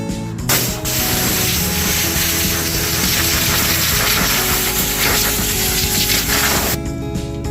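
A water spray rinses grimy vehicle trim after an acid wash, a steady loud hiss running almost the whole time with mechanical rattling underneath, starting and stopping abruptly.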